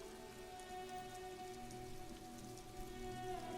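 Rain falls onto a woodshed roof in the video game Disco Elysium, a dense, continuous patter with soft musical tones underneath.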